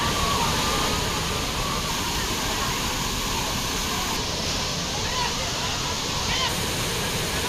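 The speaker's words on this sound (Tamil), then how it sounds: "திருப்பரப்பு அருவியில் குடும்பத்துடன் உற்சாக குளியல் போட்ட சுற்றுலா பயணிகள்" Thirparappu waterfall with tourists bathing, a steady dense roar of falling water filling the whole stretch without pause.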